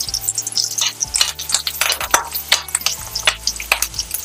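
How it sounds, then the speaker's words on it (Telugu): Curry leaves and coriander dropped into a hot pan for tomato rice, a loud close crackling sizzle with sharp popping bursts and a spoon scraping against the metal, no voices. "నెక్స్ట్ మనం కర్రీ లీవ్స్ ఇంకా కొత్తిమీర వేసేసుకుందాం"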